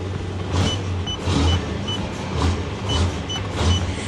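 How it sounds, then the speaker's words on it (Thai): An Isuzu truck engine, fitted with an aftermarket accelerator unit and set to a heavy-load sport mode, revs as the pedal is pressed, a steady low drone swelling in several surges. "ลองเหยียบคันเร่งดูเลยเนาะ"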